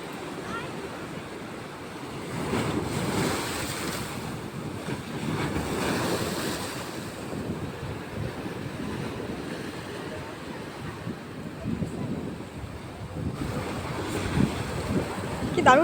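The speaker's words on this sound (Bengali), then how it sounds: "কি দারুণ হাওয়া না বল?" Strong wind roars across a rocky seashore with waves surging onto the stones, a steady loud rush that swells and eases throughout, buffeting the microphone.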